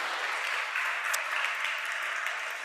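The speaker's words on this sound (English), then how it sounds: "Let's give all of our auction volunteers a round of applause." Congregation in a church service applauding its auction volunteers, a steady wash of clapping from many hands that holds evenly throughout.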